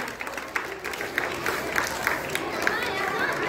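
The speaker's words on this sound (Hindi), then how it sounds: "एक जोरदार ताली होना चाहिए" An audience claps enthusiastically for a quiz contestant at a general-knowledge event, a dense steady patter of many hands with scattered louder claps and some crowd murmur underneath.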